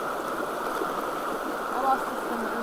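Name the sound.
creek water flowing into a waterfall pool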